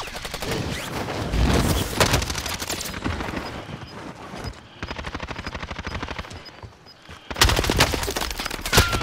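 Video game gunfire rattles in loud, close bursts of rapid automatic shots, pausing briefly between volleys before opening up again.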